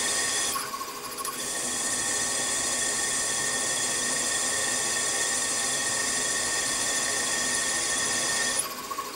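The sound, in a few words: drilling through metal with a cobalt drill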